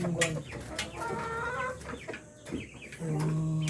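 Rhode Island Red breeder hens clucking close by on a farm during egg harvesting, a steady run of cackles and clucks with a few louder calls and a sustained tone near the end.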